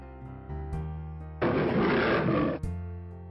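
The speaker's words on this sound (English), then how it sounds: "The lion roared angrily towards his reflection in the well, and he heard the echo of his own roar coming from the well." A lion's roar echoing out of a well in a folk-tale setting: one loud, broad, rumbling roar lasting over a second, rising abruptly over a sustained musical background and cutting off sharply, with no talk.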